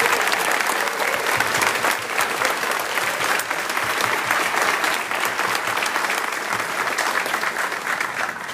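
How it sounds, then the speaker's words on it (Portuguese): A church congregation applauds catechists at a confirmation night in a parish, dense continuous clapping that holds at an even, fairly loud level throughout with no voices. "Uma salva de palmas para os catequistas."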